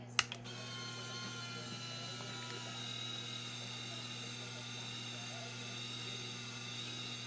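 Winch on an FMS Atlas RC tow truck running with a steady, faint mechanical whine and gear ratcheting that holds throughout, after a few sharp clicks at the start.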